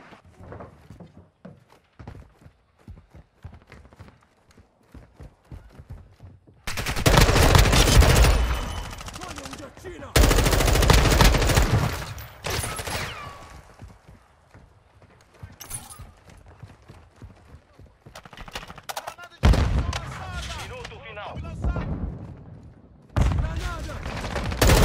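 Gunfire in Call of Duty MWII comes in several loud, dense bursts separated by quieter stretches, with people talking in between.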